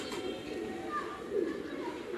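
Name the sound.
pigeons cooing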